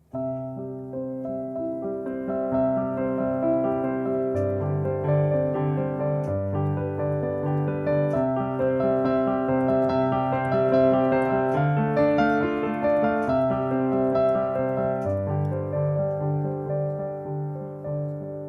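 Piano improvisation played with the sustain pedal held, notes ringing into one another in a continuous, blended wash of chords and melody, steady and moderately loud throughout with no talking.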